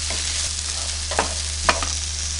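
Mixed vegetables sauté in oil in a pan for a restaurant-style vegetable curry, a steady loud sizzle broken by a few sharp scraping stirs of a spoon, with no voices.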